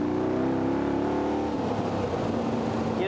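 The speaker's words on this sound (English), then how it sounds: "So you can hear the exhaust note." A V8 sports car engine rumbles steadily at close range, its deep exhaust note holding even, then dropping and roughening toward the end.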